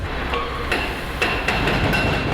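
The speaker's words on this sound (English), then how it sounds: "You can hear the hammers working in the background." Demolition hammers breaking big concrete columns on an underground site, heard as repeated sharp metallic impacts in the background over a loud continuous machinery rumble.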